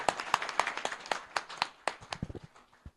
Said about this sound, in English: Give them even bigger claps, please.